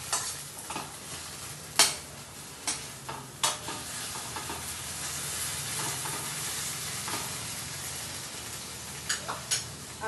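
Garlic sautéing in a pan for homemade pizza sauce gives a steady soft sizzle, broken by sharp scraping clicks of stirring that come in scattered bursts, close and fairly quiet.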